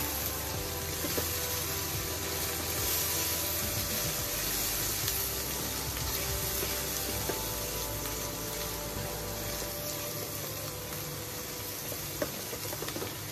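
Spice paste with garlic, ginger and salt sautéing in a pan for a Bengali prawn and long bean dish, a continuous close sizzle and hiss with faint occasional scrapes.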